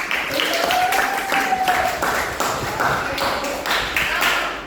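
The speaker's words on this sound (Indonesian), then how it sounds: "Oke, tepuk tangan dulu untuk kita semua." A classroom of students claps together, a lively, uneven burst of hands close by with a few sharper taps and a brief whistle-like tone, lasting several seconds.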